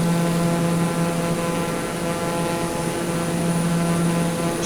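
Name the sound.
propeller airplane cruising, Kathmandu to Lukla flight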